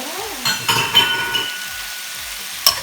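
Shrimp stir-fried with holy basil in a pan: a soft sizzle under irregular scrapes and clinks of a utensil against the pan, several distinct knocks, and a sharp clink near the end.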